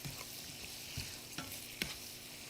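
Onion and spice sauce, seasoned with turmeric and red chili powder, is stirred in a frying pan, with a soft steady sizzle under a few distinct scraping strokes of the spoon against the pan.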